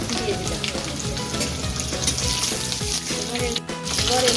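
Garlic and ginger sizzle in hot oil in a pan, a dense, steady crackling hiss with faint clinks throughout.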